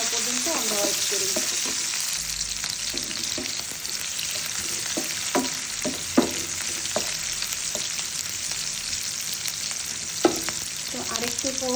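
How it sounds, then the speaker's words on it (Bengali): Vegetables frying for a Bengali bhaji-style curry hiss and sizzle steadily in a pan, close and loud, with scattered clinks and scrapes of stirring and no talk. "তো এগুলো একটু ভাজা ভাজা করে নিই, এগুলো ভাজা ভাজা হওয়া পর্যন্ত আমরা ওয়েট করি।"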